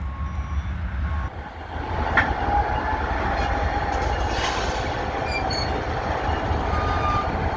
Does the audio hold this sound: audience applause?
no